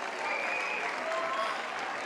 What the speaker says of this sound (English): Round of applause for the girls and for Ernest.